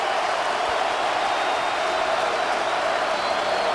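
A steady, dense roar from a football stadium crowd at a college game between Vanderbilt and Georgia, a loud unbroken wash of cheering and noise with no distinct breaks, filling the whole stretch.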